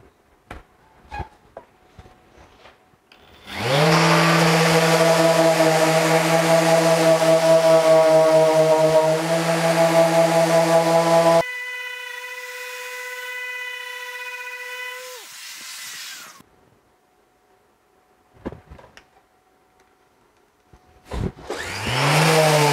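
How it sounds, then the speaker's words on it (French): A Festool ETS sander and a Mirka Deros sander fitted with grit 120 abrasives and a pad protector, one running with a loud, steady tonal whine for several seconds, then a higher, thinner whine that spins down, and a final brief start-up. "on va mettre sur les deux machines des abrasifs avec un grain 120"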